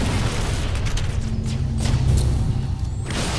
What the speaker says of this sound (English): Riker's tossing some grenades out